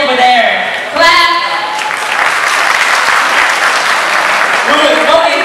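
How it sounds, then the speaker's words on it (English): Students at a senior send-off school assembly clap to cast votes, a loud, close burst of applause with shouts and voices mixed in, dipping briefly near the start before swelling again. "So goes to the loudest applause"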